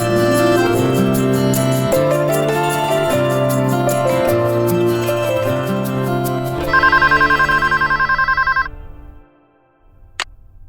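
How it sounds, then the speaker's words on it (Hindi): Telephone ringing during a phone call, a repeated electronic trill over loud drama background music, then cut off, followed by a single short tone after a brief silence. "तब तक मैं समीर के पेरेंट्स को फोन करता हूँ खुशखबरी देने के लिए"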